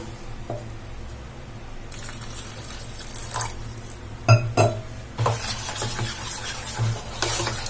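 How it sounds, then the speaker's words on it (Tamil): Wet stirring and sloshing as water is mixed into batter, with scraping strokes and occasional splashes, close and steady throughout. "அதனால நம்ம வந்து தண்ணி வந்து இதுல சேர்த்துக்கலாம்."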